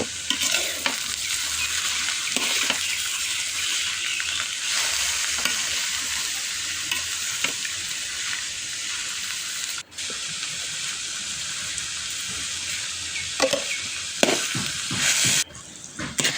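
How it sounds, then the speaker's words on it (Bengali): Continuous sizzling of leafy greens in a pan with repeated scraping and stirring, a few louder clatters of a utensil near the end. "শাকগুলো দেওয়ার পর আমি এটাকে নেড়েচেড়ে পরিমাণ মতো লবণ দিয়ে ঢাকনা দিয়ে কিছুক্ষণ জাল করে নেব।"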